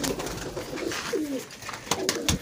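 Pigeons coo close by in a bird enclosure, soft low throaty calls repeating in short phrases against a busy background.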